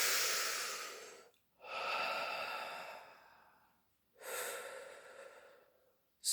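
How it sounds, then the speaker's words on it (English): Two long, deep breaths, each a slow airy inhale or exhale with a pause between, close and fairly soft with no talking. "take a deep breath"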